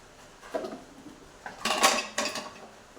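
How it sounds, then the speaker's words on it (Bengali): Metal kitchen tins, including a biscuit tin, are handled during washing, giving a few distinct clanks and rattles of tin against tin, close and moderately loud, with quiet pauses between. "এই কটা কোটো ধোয়া কমপ্লিট বাকিগুলো ধুয়ে তোমাদের দেখাচ্ছি"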